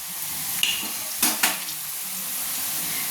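Slit green chilies are stirred into a chicken curry frying in a pan, giving a continuous close sizzle with a few sharp spoon scrapes and clatters against the pot.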